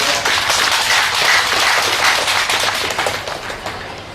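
A crowd at a Malay political gathering claps for a speaker, a loud, dense burst of hand clapping that slowly tapers off near the end.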